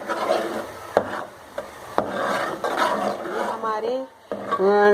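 Spices and tomatoes sizzle as they are roasted and stirred in a cooking pot for dhaba-style mash ki daal, with a few clanks of a spoon against the pot and a voice talking over the cooking.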